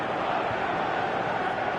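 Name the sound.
football crowd reacting to a near miss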